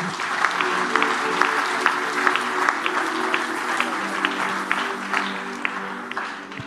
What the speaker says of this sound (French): Acclame si tu as compris là-haut.